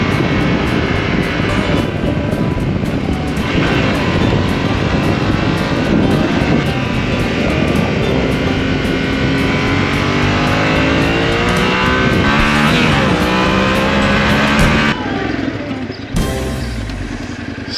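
A touring motorcycle on a road in Sicily roars loud and close, its engine droning steadily and then climbing in pitch through several gears as it accelerates, before easing off near the end.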